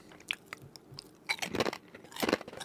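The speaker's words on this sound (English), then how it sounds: "Very crunchy. Sorry if I'm crunching too much into the microphone." Light, airy dehydrated or air-fried chips crunched close to a microphone, with a few small bites followed by two loud bursts of dense crackling chewing.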